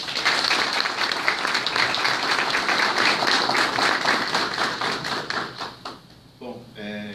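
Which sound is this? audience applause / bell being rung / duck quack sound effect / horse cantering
audience applause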